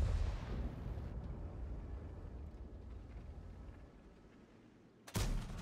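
A World of Tanks autoloader gun on the TL-7 fires, a deep boom trailing into a long low rumble, followed by another abrupt loud blast near the end.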